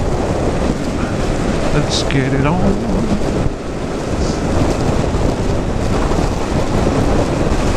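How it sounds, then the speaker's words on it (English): Stormy morning with heavy rain and gusting wind ahead of 80-mile-an-hour winds, a constant loud roar of rain and wind buffeting the microphone, with a person speaking briefly over it. "and here comes the rain."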